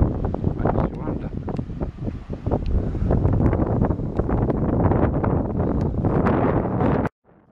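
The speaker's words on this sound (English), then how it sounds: "Boy, it's windy." Strong gusty wind beside a canal in Scotland buffets the microphone continuously, a rough rumbling roar with crackly bursts, cutting off abruptly at the end.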